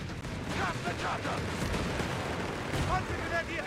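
Mortar and artillery fire in Company of Heroes 3, North Africa campaign: a dense, loud barrage of booms and crackling shots rolling continuously, with a voice briefly under the din.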